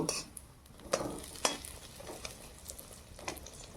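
Bread and egg frying in a pan and being flipped over, a soft steady sizzle broken by a few sharp scraping and tapping knocks from the turner.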